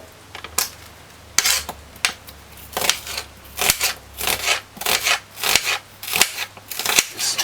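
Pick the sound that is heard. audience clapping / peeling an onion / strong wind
peeling an onion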